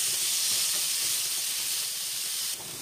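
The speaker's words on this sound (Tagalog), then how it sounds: "fry natin ulit siya ng around 5 minutes. Hanggang mag-soften niya yung ating onion at carrots" Onion and carrots frying in a pan make a steady bright sizzling hiss close by, even throughout and dropping slightly in level near the end.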